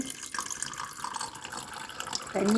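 Warm water is poured into freshly made sambal belacan paste, a steady splashing trickle with a bright gurgle near the end.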